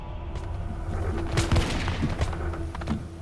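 Musket volley fired by soldiers in a reenactment of the 1775 skirmish at Lexington, heard as a ragged burst of overlapping close shots among rumbling background noise, with no talk.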